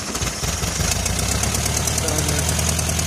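A 1973 VW Karmann Ghia engine, running again after 28 years, clatters and knocks at a steady idle close by, with faint talk mixed in.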